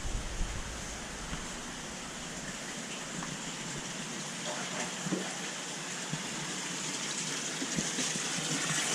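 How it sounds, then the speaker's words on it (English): Water gushes steadily into a rubber liner sump bag of a 1000 gallon sump, a continuous broadband rushing and splashing that holds at a constant level with no voices. "almost done filling up the sump bag"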